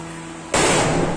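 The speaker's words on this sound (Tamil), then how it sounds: "பட்டாசு போச்சு போச்சு போச்சு" A Diwali firecracker bursts with a sudden loud bang close by, followed by a sustained crackling, hissing roar that carries on to the end, after a quiet steady hum beforehand.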